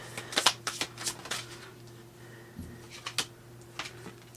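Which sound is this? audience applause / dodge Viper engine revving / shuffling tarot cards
shuffling tarot cards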